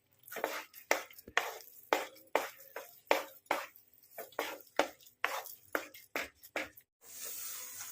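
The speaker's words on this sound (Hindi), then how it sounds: "इसको इस प्रकार मिलाना है कि ये सब मिल जाए लौकी के अंदर।" A spatula works khoa into grated bottle gourd in a pan, making sharp, rhythmic scraping strokes roughly twice a second that sound close and clear, then give way at the end to a softer hiss.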